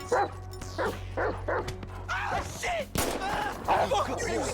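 Chop the dog barking in GTA 5, a run of repeated close barks and yips with short whimpering notes between them, layered over steady game background hum.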